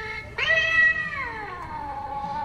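A Target 2021 Halloween animatronic cat lets out one long, loud electronic meow that rises sharply, then slowly drawls downward and fades, heard alone with no talking.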